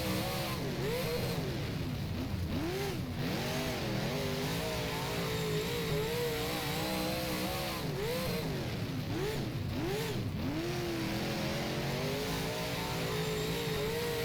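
Super Late Model race car engine at Talladega in the rFactor racing game, a loud continuous drone that rises and falls through repeated throttle swells for the whole stretch, with no talk.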